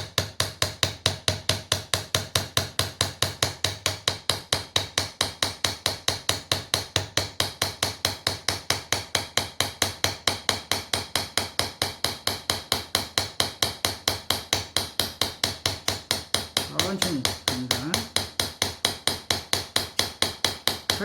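A mallet strikes a carving chisel on wood in Korean wood-sign carving, rapid, steady close knocks repeating continuously throughout, with a brief scraping rustle near the end.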